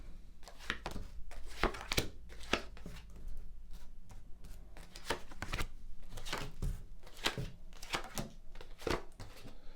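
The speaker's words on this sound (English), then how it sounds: "I'm just going to lay down your 10 cards on the table." Tarot cards are laid down one after another on a table, giving soft, irregular slaps and taps with a near, papery quality throughout, with no talking.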